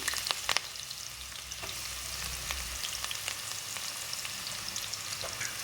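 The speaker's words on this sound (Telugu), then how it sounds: "ఇప్పుడు మన ఆయిల్ హీట్ అయింది కాబట్టి ఆనియన్స్ వేసుకుందాం" Onions sizzle in hot oil in a home kitchen while cooking gongura chicken, a steady crackling fry broken by sharp spits and stirring scrapes near the start.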